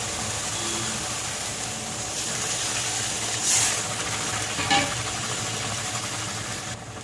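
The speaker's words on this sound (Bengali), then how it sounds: "দিয়ে দিচ্ছি জল।" Water poured from above into a pan of pabda fish curry with coriander, green chilli and garlic paste, a steady close gush over a low background hum, with a couple of brief clinks.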